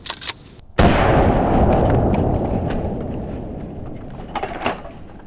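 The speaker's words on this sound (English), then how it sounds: "since we got the shotgun out, let's hit a pineapple" A single loud shotgun blast hits a pineapple up close, a sharp crack followed by a long rolling echo that slowly fades, with faint outdoor sounds afterward.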